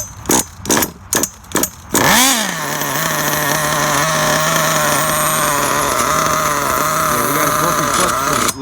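A Losi 8ight RTR nitro truggy engine with a faulty clutch spring and a sticking clutch shoe sputters through a few short bursts, then catches and screams at full throttle in a loud, steady, high-pitched whine that holds close by.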